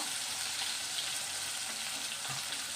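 Onion frying in a pan for methi bhaji, a steady, even sizzle and hiss of oil holding at moderate level throughout, with faint stirring scrapes underneath.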